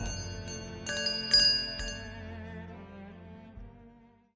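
Grave bells toll in a Day of the Dead horror story setting, a few resonant strikes that ring out and slowly fade into a long decaying hum, heard alone.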